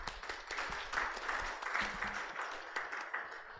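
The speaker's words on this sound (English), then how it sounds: "o please, Mr. Wong, for the next 15 minutes, let's give a warm applause to Mr. Bertram." Audience at an international seminar on livable space applauding a speaker, steady moderate clapping throughout, fairly faint and distant.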